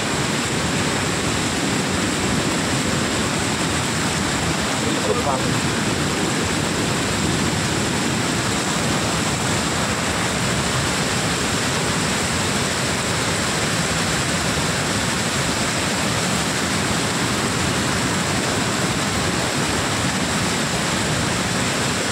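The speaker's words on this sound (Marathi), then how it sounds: "भर पावसात पाणी भरपूर आहे" Floodwater rushes in a steady, loud, broadband roar through heavy monsoon cloudburst rain in Kankavli, a continuous wash with no let-up and no voices.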